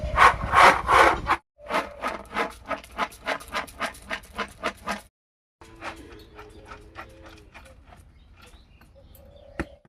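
Dried turmeric being pounded and ground into powder with an iron pestle indoors, rhythmic bursts of rapid scraping and thudding strokes in two runs separated by short pauses, close and clear, ending with a single sharp knock.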